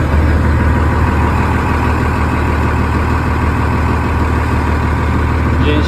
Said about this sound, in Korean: 엔진 시동을 걸어 보겠습니다